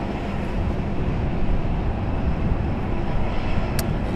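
JetBlue airliner in new livery at Raleigh Durham International Airport, a steady low jet engine rumble and roar held at a distance for the whole stretch.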